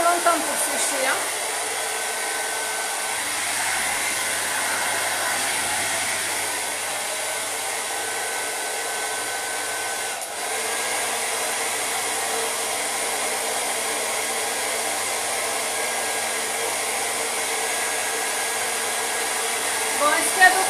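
A hair dryer blows steadily on a wet watercolour painting, a loud, continuous close whoosh lasting twenty seconds with no break.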